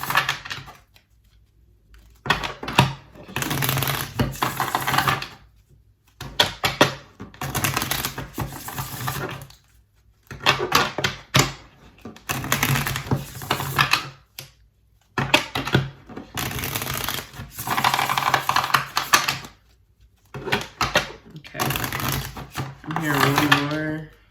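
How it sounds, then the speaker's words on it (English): Tarot cards being shuffled at a reading table, coming in repeated bursts of crisp riffling and clattering separated by short quiet gaps, fairly close and moderately loud, with no talking. "I keep seeing the Justice card as I'm shuffling."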